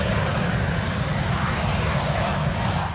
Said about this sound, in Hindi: ब्लडहुड नाम की इस कार को न सिर्फ एक जेट विमान की तरह तैयार किया गया है, बल्कि इसमें जेट विमान में लगने वाले इंजन का भी इस्तेमाल किया गया है